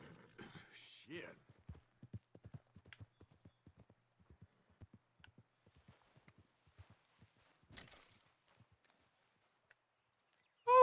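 Horse hooves clip-clopping in Red Dead Redemption 2, a steady walking gait of soft thuds over several seconds, with a neigh-like burst near the start and a sharp loud hit at the very end.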